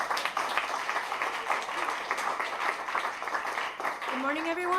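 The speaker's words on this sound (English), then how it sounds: "let's give them a round of applause" At an author talk event, an audience gives a round of applause, a steady wash of many hands clapping at moderate volume. A voice begins speaking as the clapping winds down at the end.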